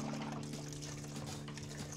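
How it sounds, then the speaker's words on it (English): C-41 colour film developer pours through a funnel into a developer bottle, a steady close liquid trickle with a constant hum beneath it and no talk. "Grab your developer bottle and funnel and pour your developer into the developer bottle."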